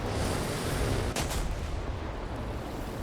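Rockets firing and exploding in the video game War Thunder: a dense, continuous roar of blasts and rumbling with a sharp crack near the start, loud and close with no talk.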